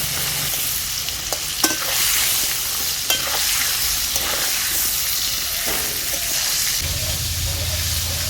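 A fish head sizzles loudly in a pan of hot oil as it is flipped and turned, with scraping stirs and a few sharp utensil clinks over the continuous frying hiss.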